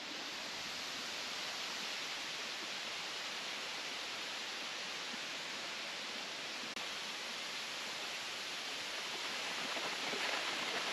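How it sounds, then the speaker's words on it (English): Steady broadband roar of a waterfall at a short walk from the road in Tahiti, loud and continuous throughout with no voices over it. "we made it to the waterfall."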